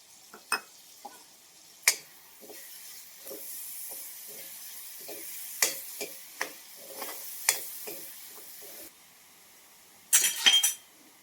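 Ground paste of fresh coconut, green chili, coriander, garlic and onion going into hot oil over a wood-fired stove, a soft hiss under a string of sharp clinks and scraping stirs, with a louder burst of clatter near the end.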